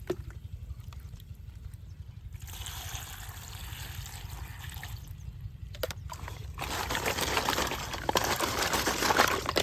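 Water pours and swishes over discarded shells being washed for making lime, starting as a quiet trickle and growing into louder bursts of rushing, splashing water with no talk.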